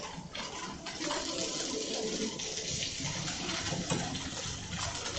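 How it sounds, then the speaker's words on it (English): Tofu sizzling and browning in a hot pan, a steady dense hiss and crackle of frying oil that holds at an even level throughout, close and alone. "So we're going to brown this off first"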